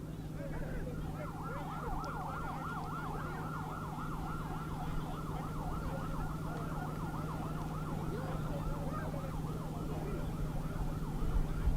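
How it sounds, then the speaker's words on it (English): An ambulance siren wails in a fast, steady yelp as the vehicle leaves a football stadium, fairly distant and under a constant low crowd rumble. "Michael Agok is taken off by an ambulance out of the stadium."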